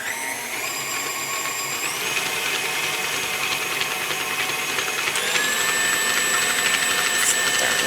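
An electric mixer blends vegan frosting with powdered sugar in a steady, loud whir that holds throughout and shifts pitch slightly partway.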